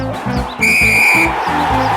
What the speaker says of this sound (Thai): กรรมการหมาป่าเป่านกหวีด